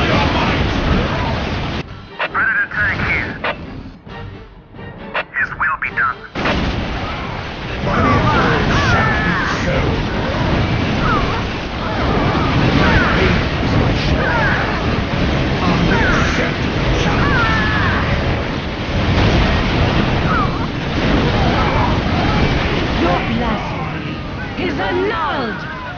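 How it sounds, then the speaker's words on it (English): Heavy gunfire and blasts from a Space Marines battle in Dawn of War Soulstorm, a dense, continuous roar of shots and explosions that stays loud for the whole stretch, with game voices mixed in. "Taking heavy fire!"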